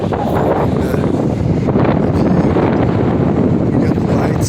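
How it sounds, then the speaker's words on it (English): Strong wind buffets an outdoor microphone in loud, continuous low rumbling gusts that fill the whole stretch without a break. "We got the wind is hard today, man."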